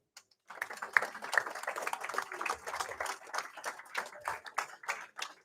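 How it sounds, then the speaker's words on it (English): A crowd applauds young baseball players at a live draft day event, steady overlapping claps starting after a brief pause and holding through, close and moderately loud. "big round of applause for these young men"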